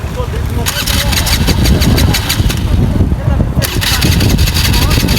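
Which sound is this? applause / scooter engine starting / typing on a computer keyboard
scooter engine starting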